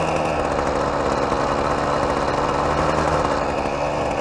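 A Ryobi 2-cycle gas weed eater engine runs steadily on half choke, a loud, continuous buzzing drone held close by without pause or change in pitch.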